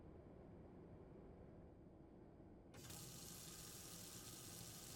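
A tap is turned on in a tattoo shop and water gushes steadily from the faucet, a sudden bright, loud rush that starts partway through over a quiet room hum and keeps flowing.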